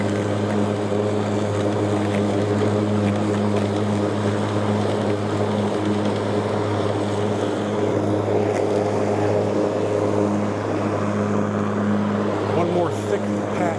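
Ryobi 21-inch 40V brushless cordless lawn mower cutting through very thick grass, with a loud, steady droning motor hum under load that stays continuous throughout, while a voice speaks over it.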